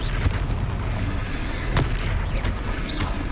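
Fiery spell blasts in Hogwarts Legacy during a fight with a giant troll, heard as several loud booming bursts, one near the start and another just before the two-second mark, over a constant rumbling game backdrop.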